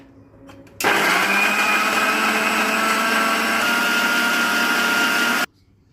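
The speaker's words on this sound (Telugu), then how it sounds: "మిక్సీ పట్టుకుందాం." An electric mixer grinder blending bananas and milk starts abruptly and whirs loudly for about five seconds, a steady high-pitched motor whine, then cuts off into quiet.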